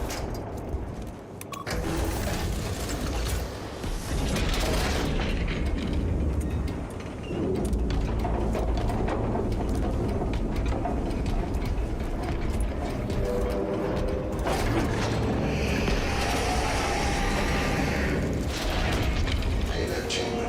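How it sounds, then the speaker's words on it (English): Heavy mechanical clanking and ratcheting as a payload is inserted and locked into its chamber in Space Marine 2, layered over continuous rumbling machinery and low booms, loud and dense for the whole stretch. "Payload chambered."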